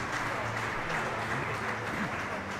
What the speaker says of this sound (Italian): L'applauso del pubblico per questa sfida molto equilibrata